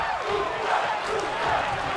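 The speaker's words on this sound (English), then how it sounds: "listen to this crowd already getting behind Kalisto" A wrestling arena crowd in WWE 2K22 roars and cheers in a continuous, dense wash of voices, loud and sustained throughout with no single speaker standing out.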